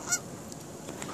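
Geese honk while landing near a hunting spot, one sharp call early on followed by fainter, more distant honks over quiet outdoor background.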